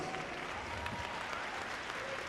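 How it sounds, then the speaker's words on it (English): Sustained, even applause from an audience at a figure skating event, a steady wash of many hands clapping at moderate volume with no voices over it. "that's worth an applause"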